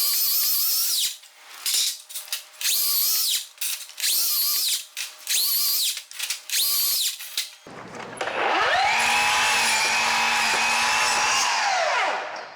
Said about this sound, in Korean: 조금씩 잘라주는 거를 이제 칼집을 내준다고 하는데, 요거는 변형을 방지하기 위해서 해준다고 보시면 돼요.